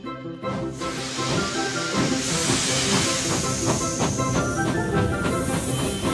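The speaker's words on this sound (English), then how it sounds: "But I think this engine's ready to leave." A steam railway engine standing ready to depart, releasing a loud, sustained hiss of steam with mechanical clanks and tonal hums underneath, close by and continuous.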